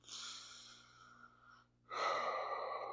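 Close, quiet breaths: a long, soft exhale trailing off, a brief pause, then a stronger, airy intake or exhale, unhurried and steady.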